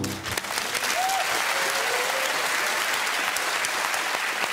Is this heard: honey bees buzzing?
no